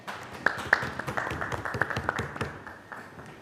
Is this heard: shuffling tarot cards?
no